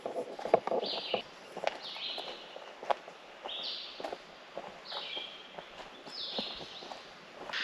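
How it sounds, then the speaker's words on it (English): Birds chirp and call repeatedly in a forest at Savage Gulf State Park, bright short trills recurring throughout, with footsteps and rustling close by on the trail. "Listen to the birds."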